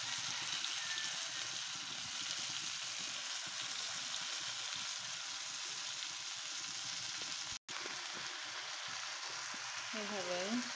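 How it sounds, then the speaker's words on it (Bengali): Greens (sak) bhaji with eggplant fry in a pan while being stirred, giving a soft, even sizzle throughout, broken by a momentary dropout, with a brief voice near the end. "এইভাবে নাড়তে নাড়তে ভাজিটা ভেজে নেব।"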